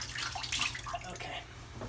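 Tap water runs steadily while a double edge razor is rinsed off under the faucet, a continuous splashing close by with small shifts in the flow.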